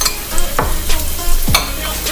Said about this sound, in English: So we're gonna have to like stir it around